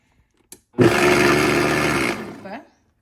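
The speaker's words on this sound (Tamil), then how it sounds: "இப்போ இதை உடச்சி பிளண்டரில் எடுத்துக்கலாம் முட்டையை மட்டும் பல்ஸில் டக்குன்னு போட்டு எடுத்துக்கலாம்" A kitchen blender pulsing eggs for a dates cake, one loud motor whir of about a second and a half that starts abruptly and stops, with a few faint clicks before and after.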